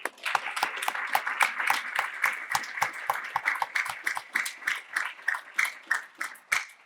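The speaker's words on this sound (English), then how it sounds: "Let's just give a round of applause one last time." A live audience applauds at a youth program's final presentations, a sustained run of close, distinct hand claps with a loose, uneven rhythm that thins toward the end.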